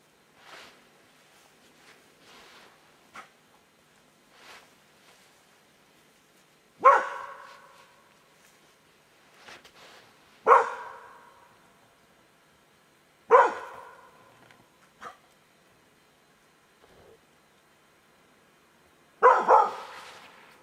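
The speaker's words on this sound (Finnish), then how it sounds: "Koira irti." A dog on a leash gives about five loud, sharp barks spaced several seconds apart, each with a brief ringing tail, with fainter yips and rustling between them and no talk.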